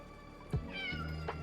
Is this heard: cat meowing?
yes